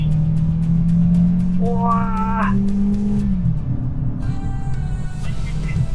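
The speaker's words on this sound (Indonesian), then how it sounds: "Suaranya knalpot belakangnya ya, meskipun ini asli" A Mazda 3 sedan with its original exhaust pulls hard from a standstill on an empty road, the engine note rising loudly to a gear change and climbing again, while a man exclaims over it.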